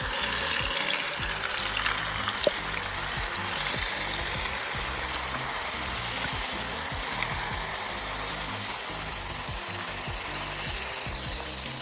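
Cumin and red chilli chutney sizzles in hot oil with a dense, steady crackling hiss that holds evenly throughout, close and uninterrupted, with a faint tick early on.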